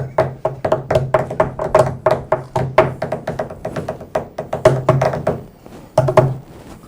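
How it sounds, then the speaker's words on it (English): Three men drum with their hands on a tabletop, a fast run of loud, overlapping thumps and taps in irregular bursts with brief pauses, close and with no talking. "It's called Three Guys Drumming on the Table."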